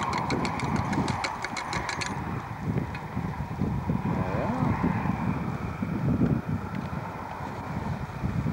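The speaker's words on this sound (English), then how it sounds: "getting a bit windy, I say." Steady wind buffets the microphone with a low, rumbling roar throughout at a 1992 scout camp in Newtonmore, joined by a faint rapid ticking at the start and muffled voices beneath.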